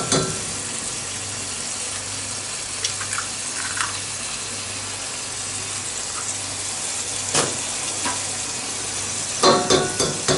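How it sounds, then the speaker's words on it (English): Eggs just cracked into a hot pan alongside bacon, sizzling and frying in a steady crackling hiss with a low hum beneath and a few sharper clinks and spits near the end. "And I can whack those eggs in there already."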